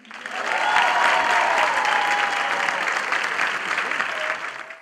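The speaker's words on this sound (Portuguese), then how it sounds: "uma salva de palmas pra quem aqui vem" A ceremonial audience applauds a poet at a solemn session honouring Mossoró's 167 years, producing a dense round of clapping that swells quickly, holds steady and then eases slightly, with a voice faintly audible beneath it.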